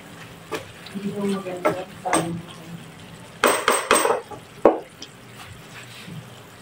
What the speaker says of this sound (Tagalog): Ilalagay na natin yung ating onion spring. Hahaluin na natin.